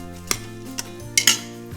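A utensil scrapes and clinks against a pot while rice is sautéed with potatoes, a few sharp metallic taps over a low steady hum, close and fairly quiet.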